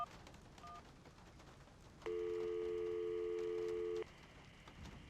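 A steady electronic tone rings in the game Syberia, holding for about two seconds after a few faint dial beeps, loud and alone over quiet background hum.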